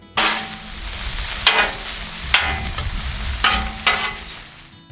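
Thin-sliced cheesesteak beef sizzles loudly on a hot Blackstone flat-top griddle, a steady fry broken by several sharp scraping strokes of a spatula across the steel, close up with no voices.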